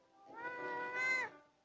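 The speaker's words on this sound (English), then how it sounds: "And the cat meows. It stood up and meowed." A single drawn-out cat meow from the mobile game Matchington Mansion, clear and close, rising slightly in pitch before it fades out.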